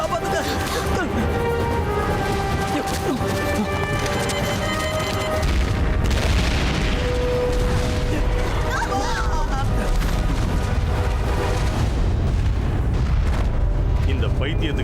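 A bomb goes off in the action film El Dorado: Temple of the Sun, heard as a loud, continuous, deep rumbling boom layered over dramatic music throughout.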